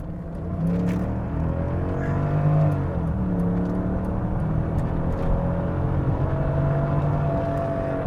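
A Mercedes-Benz E500 wagon's engine pulls hard under acceleration, a smooth, steady rising drone with quick, seamless gear changes, heard from inside the cabin with no talking.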